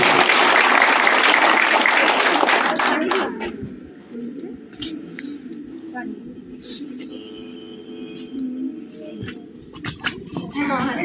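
An audience applauds loudly at a solo stage performance on an anti-addiction theme, dense clapping for about three seconds that fades out, followed by a performer speaking.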